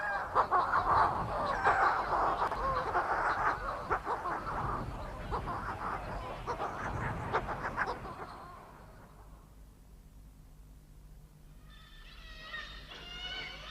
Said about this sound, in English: listen to the wild cacophony of the Manx shearwaters